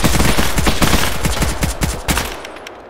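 Sustained automatic gunfire from a military video game, loud and continuous bursts of rapid shots overlapping across the whole stretch, easing slightly toward the end.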